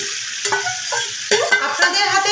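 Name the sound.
chicken pieces being stir-fried in a pan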